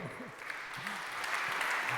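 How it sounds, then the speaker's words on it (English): Conference audience applauding a speaker being introduced, a dense, steady patter of many hands clapping that grows slightly louder, with a voice speaking over it at the start. "So please, let me hear an applause for him"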